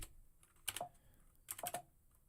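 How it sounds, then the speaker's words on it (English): Typing on a work computer keyboard comes in two short bursts of sharp key clicks separated by a quiet pause, close and clear, with no talking. "This is actually typing on my work computer."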